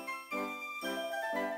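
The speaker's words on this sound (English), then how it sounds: "If you hear a bell in the background," A small bell on a cat's toy jingles faintly in a few quick shaken bursts, a thin bright tinkle over a quiet background with nothing else around it.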